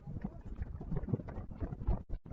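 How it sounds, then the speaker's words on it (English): A big gust of wind rumbles across a baseball field during a varsity game, a low, buffeting roar pressing on the microphone and swelling unevenly before cutting off abruptly. "Oh, and we got a big gust of wind coming through."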